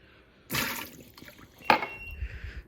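Water runs from a refrigerator's door dispenser into a glass, a short splashing pour with a brief louder gush midway, then fading trickles, close and alone.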